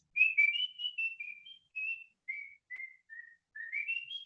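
A lone person whistles a wavering tune in short phrases, about ten notes rising and falling with brief gaps, quiet and clear against silence.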